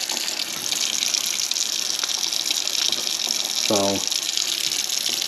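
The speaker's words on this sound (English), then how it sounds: "Gonna run hot water the whole time." Hot water running steadily from a tap into a clogged sink drain, a constant hiss and gush throughout, with someone briefly speaking near the end.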